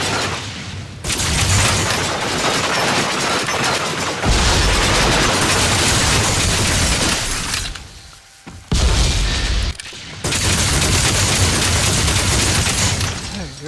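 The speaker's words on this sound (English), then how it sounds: "Stop throwing freaking grenades." Grenades burst over and over during a VR first-person cover shooter, loud booming blasts and crackling gunfire packed tightly together, broken by short quiet gaps.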